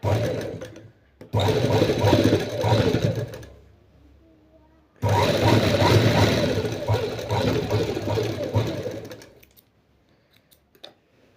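A sewing machine stitches a pleated nighty in two loud, sustained runs of rapid mechanical whirring, separated by a quiet pause, with a few faint clicks at the end.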